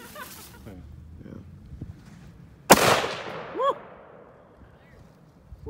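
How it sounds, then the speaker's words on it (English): A single sharp gunshot rings out outdoors at a casual shooting session, a loud crack with a trailing echo, followed by a brief metallic clink, with faint background chatter before it. "That's a fast bullet you're shooting."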